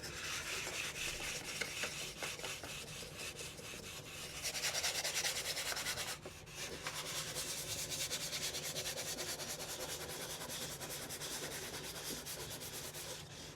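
Hand sanding a VW Transporter T6 rear spoiler, a steady scratchy rubbing stroke repeated continuously at close range, growing a bit louder midway with a brief pause, and no voices.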